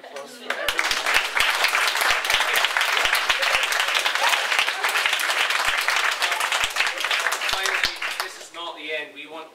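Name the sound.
theatre audience applause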